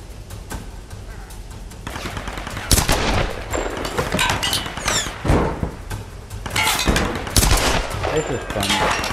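Rapid gunfire in a Tomb Raider shootout fired from behind cover, with repeated loud bursts and automatic volleys stacking up across the scene, plus scattered impacts and clatter between shots.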